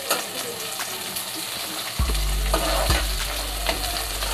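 Onions sautéing in ghee for fish biryani, a continuous close sizzle with a few spoon stirs and scrapes that make the frying swell, loud and steady, with no talking.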